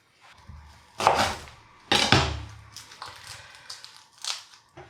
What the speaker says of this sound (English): peel and chop the shallots into little chunks